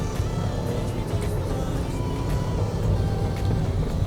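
A used car on a test drive, heard from inside the cabin as a steady, loud low engine and road drone that holds an even level throughout, with no voices.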